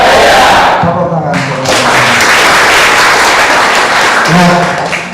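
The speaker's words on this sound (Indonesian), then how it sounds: "Tepuk tangan." A school orientation crowd at a vocational high school in Semarang breaks into loud applause mixed with shouting voices and cheering, close and continuous, with the noise dipping briefly before swelling again.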